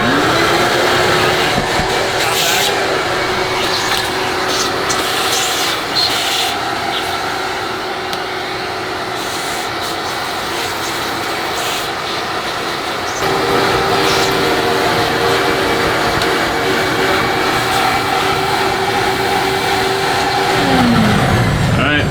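A vacuum cleaner clears out a home furnace with a loud, continuous motor drone that shifts in tone partway through, while a voice talks over it at times.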